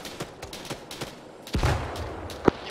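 Gunfire in the military video game Arma 3, scattered distant shots cracking at irregular intervals, then a louder nearby burst and one sharp report near the end.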